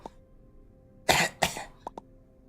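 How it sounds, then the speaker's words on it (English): Kril, a young crab character in Another Crab's Treasure, coughs in two harsh, close bursts followed by two short, lighter hacks, loud against near silence. "You coughed up a lot of gunk, kiddo."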